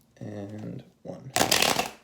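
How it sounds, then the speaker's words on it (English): A deck of tarot cards is riffled in a quick, close shuffle that ends in a loud rapid flutter, preceded by someone speaking briefly. "I gotta end it on a good shuffle"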